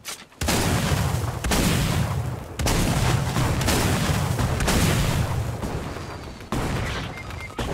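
Grenade explosions and gunfire ring out in a Fortnite match at Retail Row. A series of loud, close booming blasts and bursts come in several waves, with short gaps between them and no talk.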